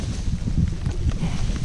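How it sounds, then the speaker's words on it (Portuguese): Wind gusting against the microphone outdoors during a fishing outing on water, a steady rough rushing with rain, loud and continuous without talk. "Chove, vento."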